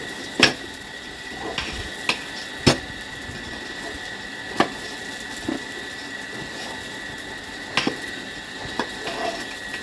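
A spoon clinks now and then against a cooking pot while lentils are stirred, with sharp, sparse metallic taps standing out over a steady background hum.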